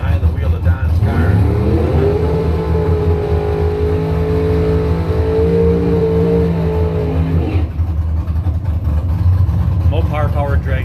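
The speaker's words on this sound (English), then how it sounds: "Mopar powered dragster" A Mopar-powered dragster engine roars loud and close, with a rising, sustained rev that holds steady and then cuts off, followed by more engine noise and faint talk.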